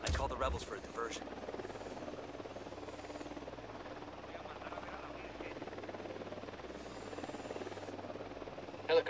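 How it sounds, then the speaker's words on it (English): Helicopter in the Ghost Recon Wildlands video game, a steady droning engine and rotor noise holding at constant loudness throughout, with game effects and sharp bursts at the start and end. "Helicopter incoming."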